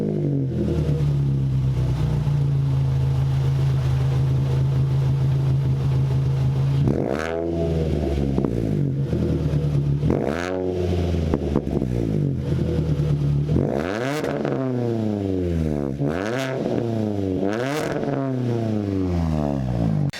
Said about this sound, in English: the exhaust does sound good. I'll show you a clip of it right now